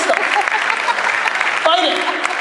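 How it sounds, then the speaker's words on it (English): Keynote audience at a digital marketing summit clapping in a steady spread of applause, with a voice speaking over it partway through. "Let's clap it up for these 11 holdouts."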